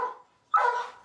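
A police canine gives two sharp, close barks, the second louder and more drawn out, with a short silent gap between them.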